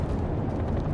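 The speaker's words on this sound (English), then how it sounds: "you can throw nades off this back wall here if someone's hiding behind this server. And that'll explode right there" A grenade blast in a first-person shooter video game: a dense, rumbling explosion that fills the whole second, loud and close with no talk over it.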